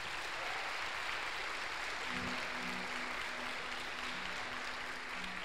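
A church congregation at a youth mission service applauds, a faint, steady wash of clapping heard from a distance with a low hum under it.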